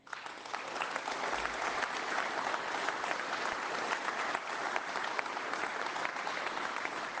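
A political rally crowd in Oakville claps continuously and densely, a fairly distant, even wash of applause that holds steady throughout.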